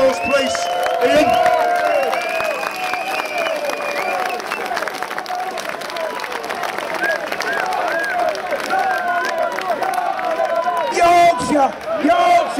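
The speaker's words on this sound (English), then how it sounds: "Massive round of applause, please, Ian." Outdoor crowd at a street rally at Downing Street claps and cheers, with shouting voices mixed into the dense, continuous applause and a louder burst near the end.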